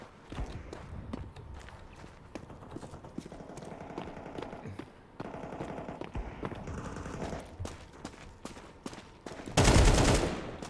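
Counter-Strike 2 gunfire in quick clusters of sharp shots amid a steady rattle of footsteps and game noise, ending in a loud close burst.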